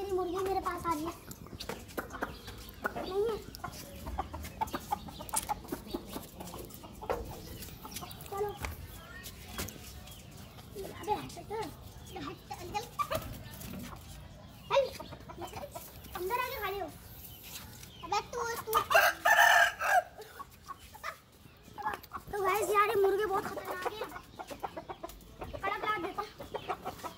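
Farmyard chickens being fed flour, clucking and calling in bursts close by while someone talks over them throughout.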